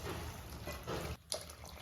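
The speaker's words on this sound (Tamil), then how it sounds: "இப்போ நம்ம வந்து தண்ணி சேர்த்துக்கலாம்" Water poured into curry masala in a pan makes a soft, continuous liquid trickle and splash that briefly stops before a small splash resumes it, faint and close, with no speech.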